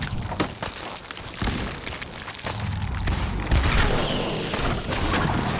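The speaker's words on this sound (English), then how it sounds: "Eat these grenades." Grenade explosions in Fallout 4 during a fight with a Queen Mirelurk, several heavy booms and thuds going off in close succession, loud and near, amid rumbling combat noise.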